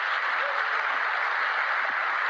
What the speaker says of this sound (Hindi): तो जोरदार तालियों से स्वागत करते हैं मेरे ब्यूटीफुल वाइफ सीता